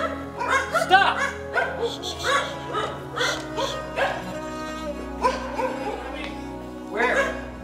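Dogs bark and yip in a lively cluster of sharp, repeated calls that come in bursts close by, with voices mixed in among the barking.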